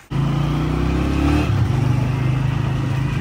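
A motorcycle engine runs loud and close, droning steadily with a brief rise in revs before settling back to a rough idle.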